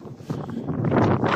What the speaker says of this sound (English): So it's quite windy today